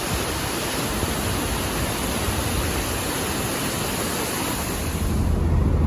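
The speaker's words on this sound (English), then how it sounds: "We stopped in Arthur's Pass to do a little hike at the Devil's Punch Bowl waterfall." Steady broadband roar of the Devil's Punch Bowl waterfall in Arthur's Pass, a continuous dense rush of falling water heard close up with no voices, swelling slightly louder in the final second.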